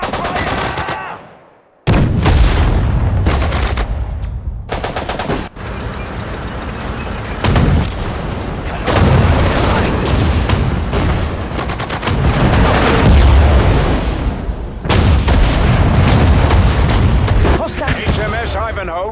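Battle sounds from the strategy game Sudden Strike 4 at Dunkirk: dense bursts of rifle and machine-gun fire mixed with heavy artillery booms and explosions, loud and near, with a brief silent gap early on and occasional voice callouts.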